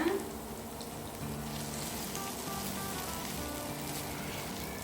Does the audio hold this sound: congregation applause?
no